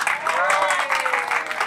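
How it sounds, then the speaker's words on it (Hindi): An audience at a mushaira poetry gathering applauds, with steady, dense clapping heard close throughout the short clip, while a voice speaks over it. "सो आप सबकी भरपूर तालियों में"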